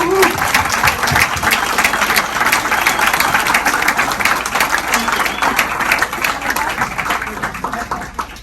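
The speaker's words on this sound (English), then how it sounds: "So now we can give them a big round of applause." A room of attendees at a Rotary club meeting gives a big round of applause. The loud, dense clapping carries on steadily for over eight seconds before easing slightly at the end.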